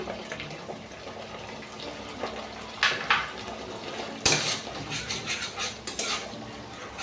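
A metal spoon clatters and scrapes as it stirs ginger-garlic paste in a pan over a faint sizzle, giving a run of uneven clinks and knocks with one loud clang midway.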